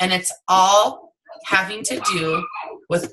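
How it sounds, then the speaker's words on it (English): A dog whimpers and yips in short, high whining bursts nearby, interleaved with and partly over a person speaking steadily indoors. "sorry about the dog"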